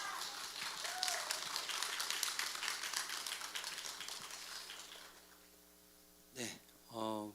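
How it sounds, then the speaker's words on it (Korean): A church congregation claps to welcome a pastor to the pulpit at a Korean worship service: steady, dense applause fills the room for about five seconds, then fades, leaving hum and a couple of short voiced calls. "우리 강은도 목사님 등단하실 때 할렐루야로 박수로 환영하도록 하겠습니다"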